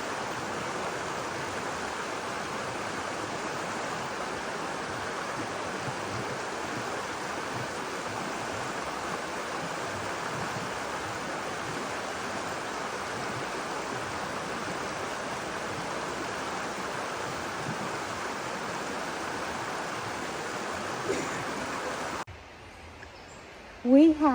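Water flows in Pfeiffer Big Sur State Park in a continuous, even rush of stream noise that holds steady for over twenty seconds, then cuts away at the end to brief quieter sounds.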